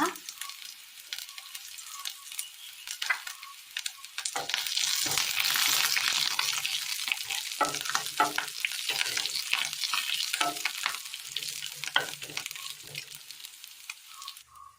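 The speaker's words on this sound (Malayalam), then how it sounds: "കറിയിലേക്ക് കടുക് താളിച്ച് ചേർത്ത് കൊടുക്കാം." Mustard seeds and curry leaves sizzle and crackle in hot oil, tempering for a pomegranate pachadi. The sizzle is close and steady, with small pops and a louder burst partway through.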